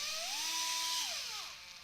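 A Fanttik NEX L1 Pro power screwdriver motor briefly whirring, a short close whine that rises in pitch, holds, then drops as the trigger is released.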